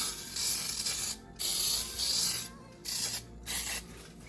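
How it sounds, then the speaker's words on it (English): Baking spray hisses from an aerosol can onto a 9-inch springform pan in a kitchen, in several short close bursts separated by brief pauses. "I'm going to lightly spray with some Baker's Joy"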